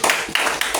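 Brief burst of applause at a Nigerian management institute's 2023 induction ceremony, a short stretch of clapping hands from a seated audience, fairly loud and steady through the moment.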